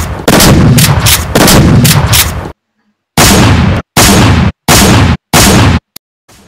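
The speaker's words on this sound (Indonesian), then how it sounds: "terdengar suara tembakan dari kejauhan" Gunfire sound effects play during a fifth-grade school drama performance: two long loud bursts of rapid shots, then three shorter separate volleys with silent gaps between them.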